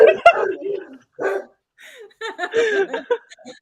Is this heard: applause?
no